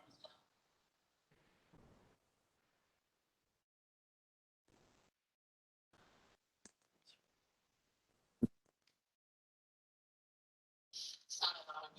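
A computer mouse clicks during an online public meeting, giving a few sparse, faint clicks with one sharper snap and short bursts of background noise between long quiet gaps.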